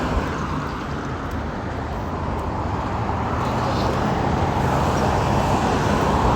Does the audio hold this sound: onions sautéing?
no